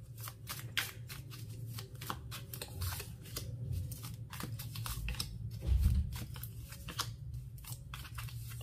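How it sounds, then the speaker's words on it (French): Tarot cards are shuffled and drawn by hand in a series of crisp, rapid riffling and snapping bursts against a low background hum, with no talking. "si vous êtes une femme, je vais vous tirer 4 cartes"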